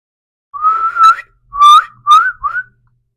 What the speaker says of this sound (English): His whistles seem muffled.